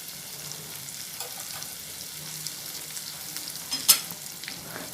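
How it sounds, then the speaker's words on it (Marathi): Gram flour (besan) roasting in half a spoon of oil in a pan for paneer bhurji gravy, a quiet, even sizzle broken by one sharp utensil clink near the end. "तेलात चांगलं भाजून घ्यायचं खमंग असं."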